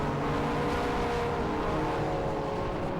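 A BMW race car drives at speed at Silverstone during a Britcar endurance race, giving a steady, dense engine roar mixed with broadband track noise, heard from trackside broadcast audio at a constant loud level.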